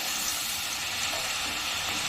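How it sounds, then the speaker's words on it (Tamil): French fries frying in hot oil make a dense, steady sizzle and bubbling hiss, close and continuous with no voices. "இப்போ நல்லா எண்ணெயை நல்லா சூடு பண்ணிவிட்டு இப்போ அதில் போட்டு விட்டுருவோம்"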